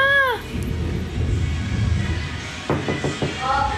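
Cats meow twice, one short cry at the start and another at the end. A few soft knocks and low background murmur fill the gap between them.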